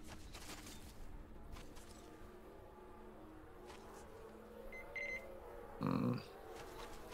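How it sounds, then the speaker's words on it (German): Faint electronic beeping in Metro Exodus, a couple of short tonal bleeps followed by a louder buzzing beep near the end, over a quiet low ambient hum. "Aber woher kommt das Piepsen?"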